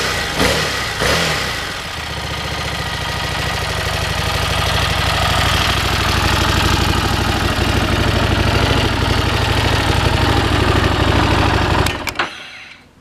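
A Harley-Davidson motorcycle engine with a loud Vance & Hines aftermarket exhaust idles with a deep, throbbing burble, rising slightly before cutting off near the end.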